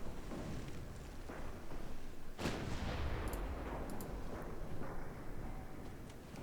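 Distant 5-inch naval guns firing in Ultimate Admiral Dreadnoughts, a sharp report in the middle followed by a rolling rumble, with faint scattered shots under steady, low-level battle ambience.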